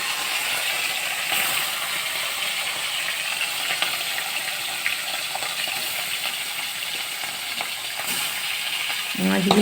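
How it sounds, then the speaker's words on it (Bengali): Pieces of katla fish, rubbed with salt and turmeric, fry in hot oil with a steady, bright hiss and crackle that runs loud and unbroken throughout, with a few faint clinks and a louder spatter at the end. "এবার মাছগুলোকে ভাজবো।"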